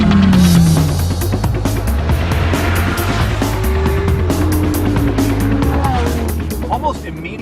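A Lamborghini Huracan with a dual-clutch transmission accelerating, its engine droning loudly and rising in pitch through gear changes, heard from inside the car over steady road noise.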